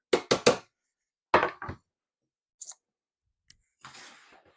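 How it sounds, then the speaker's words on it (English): A knife chops loosely through garlic cloves on a board in sharp, quick clicks, first a fast burst of three, then scattered single strikes with pauses between. "we've taken apart a thing of garlic, and we're going to be loosely chopping that up"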